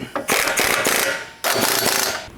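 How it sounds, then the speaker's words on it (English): A ratchet with an 18mm socket tightening a sway bar link nut during a lift kit install on a 2019+ Chevy/GMC 1500 truck, two loud close bursts of rapid clicking, with a brief pause between. "Now you can go ahead and tighten your sway bar link up."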